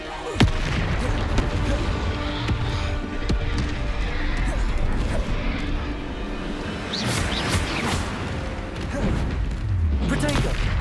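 Explosive Bombarda and Confringo spell blasts in the Hogwarts Legacy video game, a dense run of booming impacts and crackling bursts that overlap continuously amid combat effects, loud throughout.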